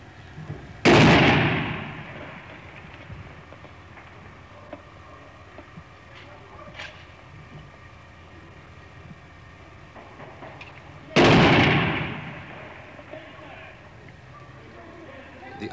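Gunfire in a Belfast street battle around Lenadoon Avenue between British troops and IRA snipers, two sharp loud bangs about ten seconds apart, each with a decaying echo, over a quiet outdoor background.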